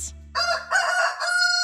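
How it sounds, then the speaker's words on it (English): A rooster gives one loud, drawn-out cock-a-doodle-doo crow in several rising and falling segments, heard close over a low, steady background hum. "Close your eyes till the rooster cries."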